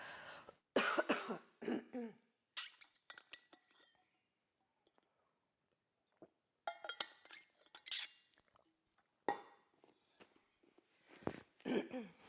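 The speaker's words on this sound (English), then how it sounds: "have a quick sip of water if you need to, a quick cough" A few soft coughs and throat-clearing sounds during a home Pilates workout, fairly quiet and close, with faint clinks and a pause of near silence in the middle.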